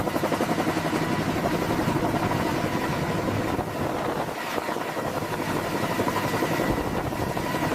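A Mi-26 heavy helicopter lifting a massive cargo container makes a steady, dense rotor and turbine roar that fills the whole clip without letup, loud and unbroken.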